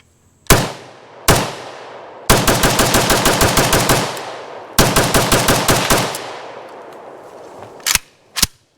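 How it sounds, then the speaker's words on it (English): Arsenal SLR104FR rifle in 5.45x39 firing through a magazine: two single shots, then two long rapid strings of loud, sharp reports, and a couple of final shots, all close and without talk. "let's put a mag or so through a gun I've had about a decade"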